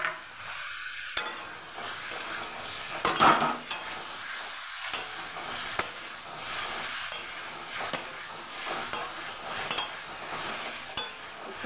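Potatoes sautéing in a pan for a yogurt potato curry, with a low sizzle broken by scraping stirs and occasional utensil clinks against the pan, close and moderately quiet, no speech.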